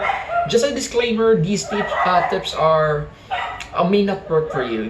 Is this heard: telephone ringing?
no